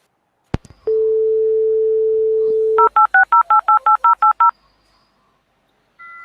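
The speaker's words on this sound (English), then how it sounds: "Greg had to reboot his dial-up" A dial-up connection starts with a click and steady dial tone, then a quick run of about ten touch-tone digits, loud and close, before a faint tone resumes at the end.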